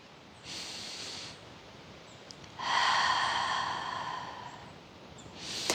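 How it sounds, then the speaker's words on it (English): Slow, deep breaths during a gentle seated yoga twist outdoors, two long breathy exhales with a shorter one starting at the end, close and alone with no speech. "Take some nice inhales and exhales there."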